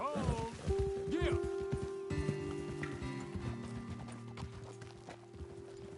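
Horses' hooves clopping on the ground while riding in Red Dead Redemption 2, a quick irregular clip-clop under a voice, with game music or tones sustained behind.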